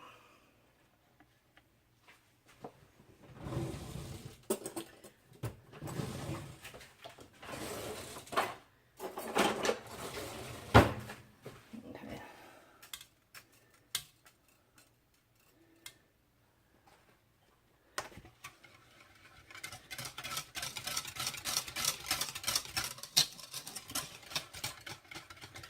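A small beater whisk mixing melt and pour soap, with a rapid, ticking, motor-like whirr that starts and stops in short bursts and runs steadily near the end, close and fairly quiet.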